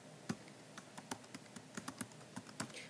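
A web address being typed on a computer keyboard gives quiet, irregular key clicks spaced close together, heard alone with no speech.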